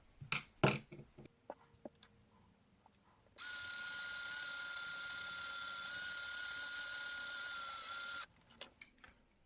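Small high-pitched drill whining steadily for about five seconds, drilling a hole in a battery-powered Christmas decoration, close, with a few clicks and taps before and after.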